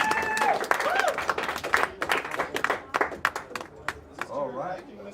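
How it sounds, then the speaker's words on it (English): Audience applause for a comedian at a stand-up show, a burst of many hands clapping that thins into scattered claps while voices talk and cheer over it. "Clap for this guy."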